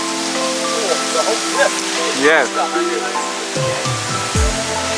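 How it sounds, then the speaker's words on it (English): A tall waterfall in Kruger National Park gives a constant broadband rush of falling water, heard at a distance under people talking and exclaiming. "it's like one of the most beautiful waterfalls we have ever seen"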